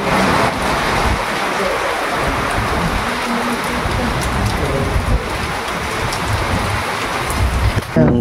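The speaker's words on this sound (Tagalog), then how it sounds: "Ayan ang ulan." Rain falls outdoors at a mountain spot, a continuous broadband hiss of drops, loud and unbroken for about eight seconds with faint background voices.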